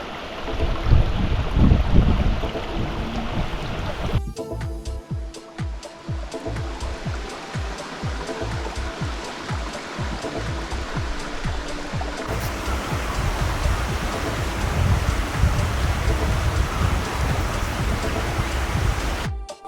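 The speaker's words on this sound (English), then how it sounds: "We find a creek with running water and stop to enjoy the calming sounds." Running water from a creek in Arizona rushes and splashes continuously nearby, with occasional wind buffeting the microphone.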